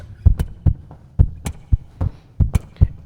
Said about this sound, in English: you can hear the drums